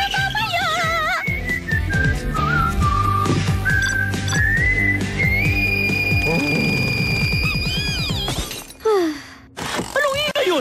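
In a cartoon, an international pop star whistles a bright, sliding melody over busy music with crashing, clattering effects, the tune rising and bending before breaking off near the end.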